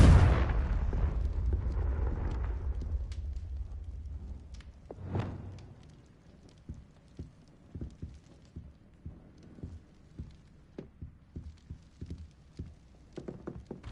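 A Confringo blast spell in the Hogwarts Legacy game erupts with a loud, rumbling explosion that swells and decays over several seconds, followed by a second smaller burst and then a string of sharp, regular thuds and impacts.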